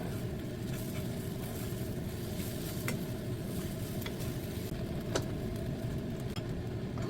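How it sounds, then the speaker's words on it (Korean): Scrambled eggs sizzle steadily in olive oil in a frying pan, with a continuous close hiss and faint scraping from gentle stirring throughout, and no talking. "살살살 저어가면서 만들어주세요"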